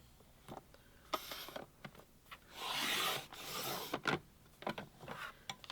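A rotary cutter or blade slices crafting material into 1-inch strips, giving short scraping rasps with one longer cut in the middle, close and fairly quiet.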